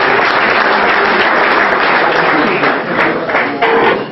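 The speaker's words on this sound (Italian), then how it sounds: "un applauso anche per Stefano." Applause for a guest at a Christmas dinner, a dense, steady roomful of clapping that stays loud throughout with slight swells near the end.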